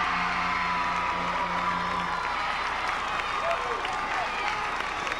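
A crowd at a 1992 boys' high school basketball game between Torrey Pines and Vista roars, cheers and claps steadily, loud and dense throughout, while a commentator's voice runs over it.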